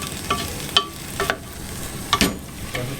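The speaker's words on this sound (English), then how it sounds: "we've added our onions and our spring onions to that. We're giving that a nice stir in." Onions and spring onions being stirred into a salted pig tail stew in a pot, several distinct spoon scrapes over a low steady cooking hiss, close and alone without talk.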